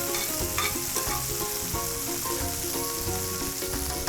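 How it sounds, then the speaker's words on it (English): Beef tenderloin steaks sear in a hot pan with carrots and potatoes cooking alongside, giving a loud, steady sizzle and frying crackle with occasional stirring clatter throughout. "as we're searing this, we're gonna sear for a few minutes on each side"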